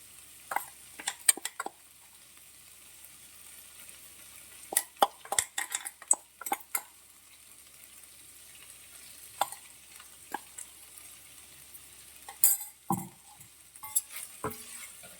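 Gobi fry, cauliflower tossed with ground spice powder in a pan, stirred in scattered bursts of spatula scrapes and soft sizzling, with light clinks of utensil on metal between quiet pauses.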